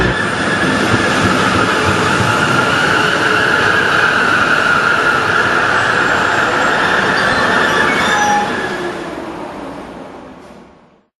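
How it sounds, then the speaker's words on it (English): A train brakes to a halt just short of a broken, flooded bridge: a loud, continuous rumble with high wheel squeal holds steady, then fades away as it stops. "And the train stops just 10 meters to the broken and flooded bridge."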